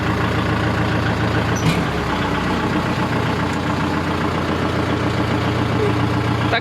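A manual vehicle's engine, stalled by a clutch that won't go into gear, turns over and settles into a steady, loud, rumbling idle that continues unbroken after a brief startup burst.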